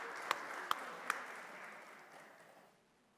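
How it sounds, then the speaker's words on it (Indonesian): Applause at a church women's fellowship anniversary service: a soft, steady patter of many hands in a hall, with a few sharper claps near the start. It stays fairly faint and fades out after about two and a half seconds. "Mari kita berikan tepuk tangan."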